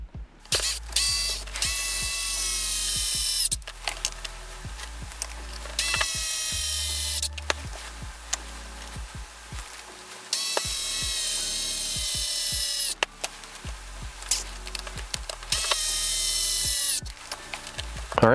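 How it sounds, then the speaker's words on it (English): Screws are driven back into an Axial Capra 4WS Currie F9 portal axle in close, repeated bursts of whirring and clicking from a small tool, with short pauses between runs and no talking. "Put these screws back in."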